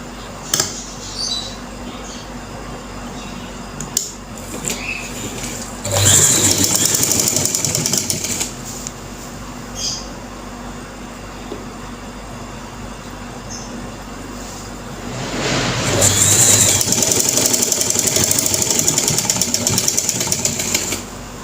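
A home sewing machine runs a straight seam in two bursts of rapid, even mechanical whirring, the second longer, separated by a quieter pause with a low steady hum.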